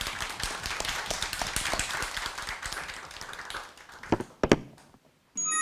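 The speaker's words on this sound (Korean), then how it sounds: "일단 힘찬 박수로 청해 들읍시다" Scattered clapping from a seminar audience at a law faculty retirement event fades out gradually, ending in a few last isolated claps and then quiet.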